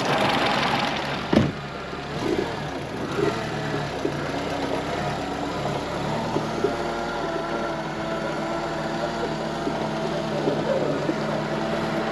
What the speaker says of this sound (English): it's sitting here and running as smoothly as it ever did at idle, bearing in mind that this engine is completely worn out